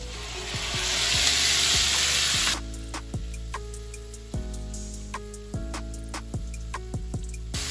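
Tomatoes and shrimp sizzling in a pan for a Mardi Gras pasta, a loud, hissing fry that swells and then cuts back to a quieter crackle with sharp clicks and pops, close up, no talk.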